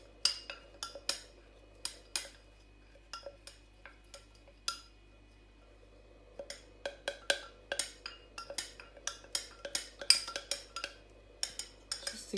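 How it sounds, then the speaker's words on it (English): A spoon stirs ground cinnamon into honey in a small vessel. Light, quick clinks of metal on the container come in irregular bursts, close and quiet, with a lull in the middle. "I usually like mixing my cinnamon with the honey first, just to have an even mixture"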